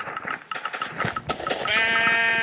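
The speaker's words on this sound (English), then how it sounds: "Die, sheep, die!" A sheep in Minecraft lets out a loud, close bleat that rises into a sustained, wavering cry at the end, with game clatter beneath it.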